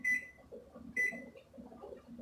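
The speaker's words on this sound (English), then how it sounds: "We're going to start our timer for 15 minutes." A kitchen timer being set during pineapple canning at a rolling boil, giving two short, sharp beeps about a second apart over a faint low background murmur.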